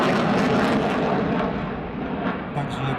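A Su-27 Flanker jet fighter at the Aerobaltic 2019 air show in Gdynia, a loud continuous engine roar that slowly fades, with someone talking over it.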